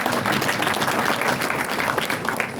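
Dense, steady applause from the audience at an official book launch and signing, a close, continuous wash of many hands clapping that holds at an even loudness throughout.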